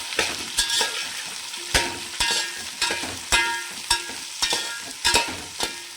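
Vegetables including broad beans, ivy gourd and okra are stirred in a pan for bagara rice, a spoon scraping and clacking in irregular strokes over a soft sizzle, close and fairly loud with no talking.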